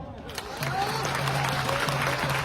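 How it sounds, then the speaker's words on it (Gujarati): An audience claps together at a devotional gathering, a dense steady wash of applause that swells after a brief quieter start and holds loud throughout, with a low hum beneath. "જો સાથ આપવાનો હોય તો 10 મિનિટ તાળીઓ પાડો"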